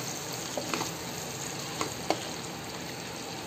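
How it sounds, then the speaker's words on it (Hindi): Fried eggplant sizzles softly in a pan of masala over a low flame, with a steady frying hiss broken by a few light clinks of stirring. "इसको अच्छे से हिलाइए।"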